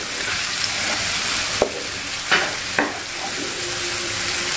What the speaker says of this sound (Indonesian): tumis sampai harum dan matang ya